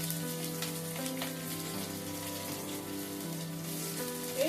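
Black cumin seeds crackle and sizzle in hot oil, with chopped onion going in for a Bengali hilsa curry with pointed gourd; a steady, close frying hiss runs throughout with a few small pops and a faint scrape near the end.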